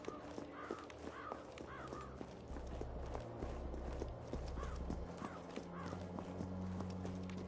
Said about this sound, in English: I like how you hear more crows in this section than actually encounter them in the game.